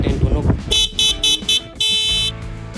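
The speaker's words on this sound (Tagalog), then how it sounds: "Ito yung stock horn ng Tiger 800." A voice speaks briefly, then the stock horn of a Triumph Tiger 800 motorcycle sounds four short, bright beeps in quick succession, followed by one longer blast.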